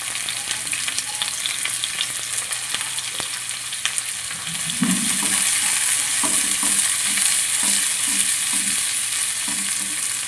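Onions and carrots fry in a pan as a garnish for a Kerala prawn biryani, giving a steady close sizzle with light stirring scrapes that grow slightly fuller partway through. No talking.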